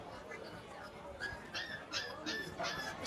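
At a pet market, a dog gives a string of high, thin whimpers and squeaks, several short cries close by over a murmur of background noise.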